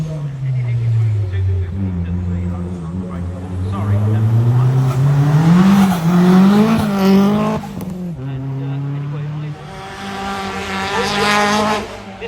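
Four-wheel-drive rally car with a full race engine built for tarmac rallying, its engine roaring loudly and rising in pitch through the gears as it drives past close by, with a commentator's voice talking over it.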